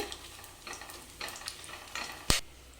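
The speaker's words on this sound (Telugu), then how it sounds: "ఈ మసాలాలన్నీ కాస్త ఫ్రై చేసుకోవాలి" Whole spices, including mace and black cardamom, frying in oil for a mutton curry, giving a soft, low sizzle with light stirring scrapes and one sharp click near the end.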